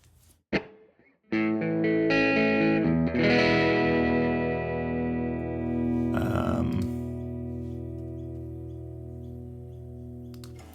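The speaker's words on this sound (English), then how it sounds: "let's put studio reverb. And I want to put that on side A." An electric guitar played through a studio reverb effect in Guitar Rig 7: a brief pluck, then a strummed chord that rings out with long sustained harmonics and a lush reverb tail that slowly fades.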